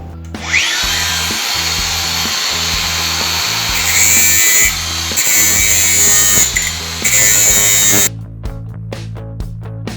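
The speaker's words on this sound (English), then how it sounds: "now I'm just going to tickle that out with cloth and the angle grinder" An angle grinder works over an old metal gate, whining loudly and steadily with a rising spin-up, shifting in pitch as it bites the metal, then cutting off near the end, close up with no talk.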